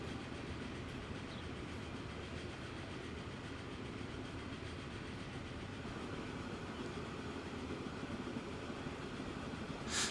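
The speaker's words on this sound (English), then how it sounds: "that's a passenger train from Leighton Linslade" A passenger train rolls continuously in the railway game Transport Fever 2, giving a steady dense rumble with a faint rhythmic clatter of wheels over the rails, loud and unbroken throughout with no voices.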